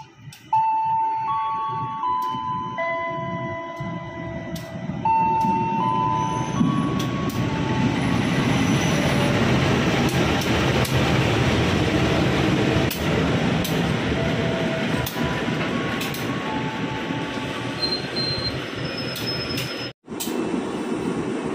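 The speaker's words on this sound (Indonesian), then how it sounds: "kereta api Kuto Jaya Selatan akan melintas langsung di jalur nomor 2 stasiun Langen" Kuto Jaya Selatan passenger train running straight through Langen station on track 2, a loud, continuous rumble and rush of wheels lasting throughout, with a station bell chiming faintly at the start.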